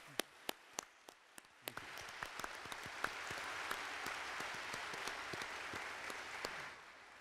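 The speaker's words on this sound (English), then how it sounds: "Let's give all of them a round of applause." An audience at a theological debate on the meaning of Israel bursts into applause, starting with a few separate claps that quickly build into a dense, steady wash of clapping before tapering off.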